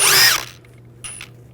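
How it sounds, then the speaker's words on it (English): A power tool with a 10mm socket whirs loudly for a moment, rising in pitch, while removing a rear brake screw on a 2001-2009 Volvo S60, then falls quiet before a shorter second burst. "I'm going to remove this screw and use a 10mm socket."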